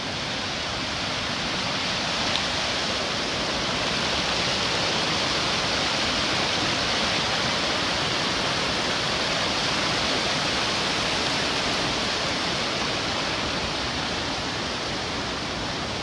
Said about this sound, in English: you should check out this creek.